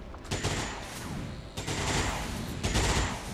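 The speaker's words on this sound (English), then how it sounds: "Right, good shot there from Dromax." Rapid bursts of weapon fire in the XCOM 2 video game, with several loud, dense volleys crackling one after another across the moment.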